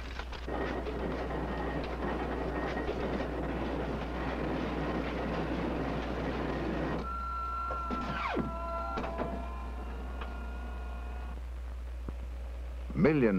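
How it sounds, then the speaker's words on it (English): Printing machines in a government printing plant turn out Library of Congress catalog cards in 1968: a steady, dense mechanical rattle and clatter, then slower clanks and whirring tones. A steady low hum runs underneath throughout. "In a government printing office plant, new catalog cards are produced."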